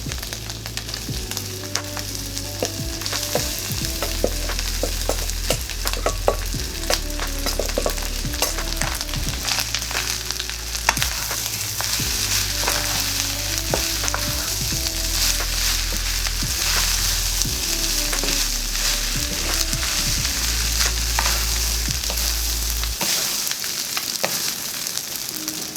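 Rice for Yangzhou fried rice, added after barbecue pork, sizzles steadily in a hot pan, with the repeated scrape and clatter of stirring over a constant low burner rumble, loud and close throughout.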